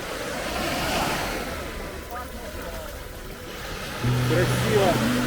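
Sea waves wash onto a sandy beach in Malaga as a steady, soft surf wash under wind, with faint background voices and a brief tonal sound near the end.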